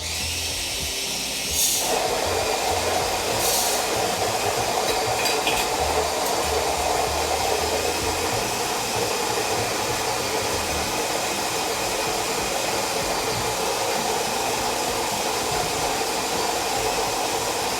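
An electric grinder whirs through coffee beans at a medium-coarse setting, a steady loud motor drone that starts after a brief lower hum and runs unbroken to the end.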